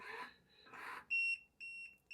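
Two broad noisy bursts, then a series of loud high-pitched electronic beeps from Kincmo smart blinds: one long tone followed by shorter repeated beeps, close and clear.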